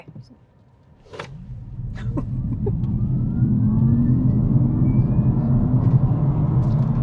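An electric Alfa Romeo Junior Veloce accelerates hard from 0 to 60, its motor whine building to a steady, loud rising drone with road rumble underneath, after a few clicks and knocks inside the cabin.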